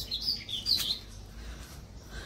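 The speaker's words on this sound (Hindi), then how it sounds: "चिड़ियों की चहचहाने की आवाज देखिए कितनी अच्छी लग रही है" Morning birds chirp in short, high tweets near the start, then fade into quiet outdoor air with a soft low rumble and no speech.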